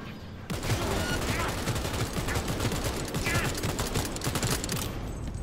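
Rapid, sustained bursts of automatic gunfire in the shooter game Cyberpunk 2077, loud and continuous for several seconds after a brief quiet start.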